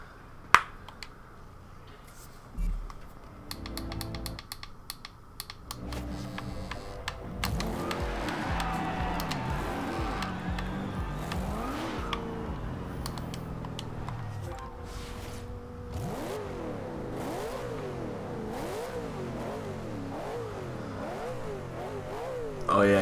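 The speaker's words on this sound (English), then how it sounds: "you can hear the twin turbo spooling just barely under that massive V8" A 2012 Ultima GTR with a twin-turbo V8 in the racing game Forza Horizon 2 revs and accelerates through repeated rising and falling engine sweeps, moderately loud, with someone talking over parts of it.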